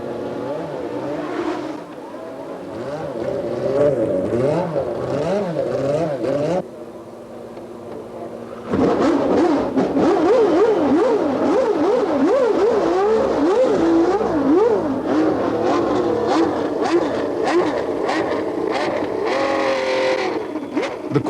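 Nigel Mansell's Ferrari Formula One car on a practice run at the track, its high-pitched engine wailing loudly and continuously, rising and falling through gear changes, with a brief quieter dip before roaring back up at full volume.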